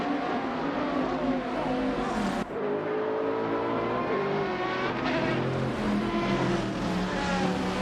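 GT race cars, including a Maserati MC12 GT1, roar around the Mugello circuit in a racing video game, with layered engines revving and shifting gear continuously and loudly, and a brief dip partway through.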